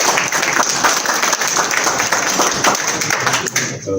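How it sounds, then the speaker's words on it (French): Sustained, dense applause from an audience at the 2022 opening ceremony of the Dakar International Literature Festival, loud and close throughout before thinning out right at the end. "Sous vos applaudissements"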